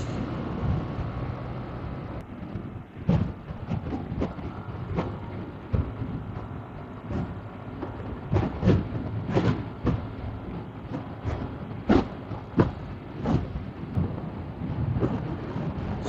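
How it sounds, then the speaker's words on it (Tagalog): Strong wind buffets a microphone in loud, uneven gusts and thumps over a constant low roar while riding fast on an open road in Luzon, Philippines. "Kaya pala ang lakas ng hangin."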